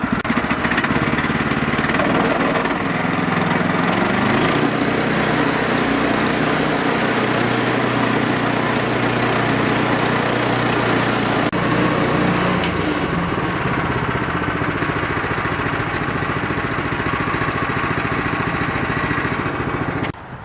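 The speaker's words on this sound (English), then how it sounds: "It's a nice motor. Really runs pretty good." A Woodland Mills HM126 bandsaw mill's small engine runs steadily and loudly throughout, with a constant droning hum and a brief shift in tone midway, and no talking over it.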